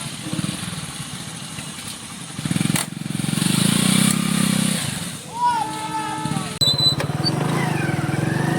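A motorcycle engine in first gear on half clutch gets light revs, a steady mid-level engine drone that swells and eases across several seconds, with brief talk over it.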